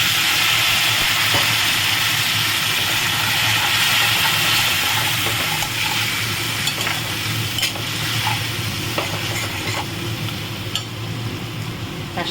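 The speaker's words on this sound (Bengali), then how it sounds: "সামান্য জল দেবো, দিয়ে এটাকে কষাবো।" A little water goes into a pan of frying kofta masala with cumin powder and salt, setting off a loud, steady hiss and sizzle with occasional stirring scrapes throughout.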